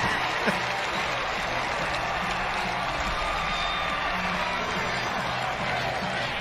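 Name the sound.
crowd cheering after a goal at a lacrosse game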